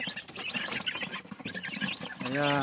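Young chicks in a backyard feeding, with soft pecking, scratching and faint peeping chirps, then a louder rising chirp at the end.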